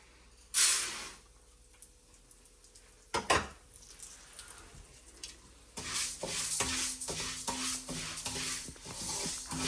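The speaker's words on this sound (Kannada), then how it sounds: "ಇವಾಗ ಮತ್ತೆ ಎಣ್ಣೆ ಹಾಕ್ತಿದ್ಯಾ ಹಾಕೊಂಡು ಉದ್ದಿನ ಬೇಳೆ ಹುರ್ಕೊಳ್ಳೋಣ" Urad dal frying in hot oil and stirred with a spoon, bursts of sizzling and hissing rising as the lentils hit the pan, followed by steady crackling and scraping stir strokes that continue to the end.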